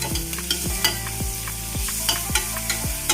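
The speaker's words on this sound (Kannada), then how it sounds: "ಇವಾಗ ಇದಕ್ಕೆ ಸ್ವಲ್ಪ ನಾನು ಟೊಮೆಟೊ ಹಾಕೋತಾ ಇದ್ದೀನಿ" Tomatoes and onions fry in a pan with steady close sizzling, while a utensil scrapes and stirs through them in regular strokes about every half second.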